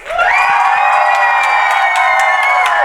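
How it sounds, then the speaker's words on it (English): A live audience at an evening show erupts in loud cheering, whoops and shouts with some clapping, a sustained near roar that rises sharply and holds before cutting off. "By a round of applause, how are we feeling tonight?"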